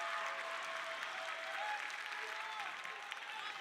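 Crowd applauding and cheering at a college wrestling match against Indiana University, a steady sustained roar of clapping filling the arena for the whole moment, with faint commentary underneath.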